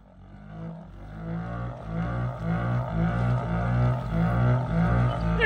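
A submerged vehicle's engine runs steadily while it drives along a lake bottom, breathing through a 20-foot snorkel, giving a deep droning hum that swells slightly louder and holds without pause.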